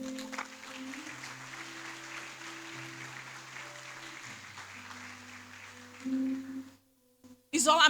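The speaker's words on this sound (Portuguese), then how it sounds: "Aplaude ao Senhor aí." A church congregation applauds the Lord during a Portuguese-language sermon, a steady wash of clapping that holds for several seconds with a sustained tone underneath, then fades out before a brief louder burst at the end.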